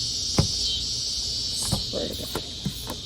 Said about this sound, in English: That cicada is right on top of me.